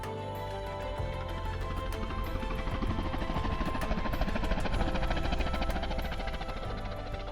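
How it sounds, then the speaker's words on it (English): A helicopter near Belukha mountain in the Altai gives off a steady, fairly loud rotor and engine drone with a rhythmic chop that holds throughout. "The helicopter has left to attend to some important errands"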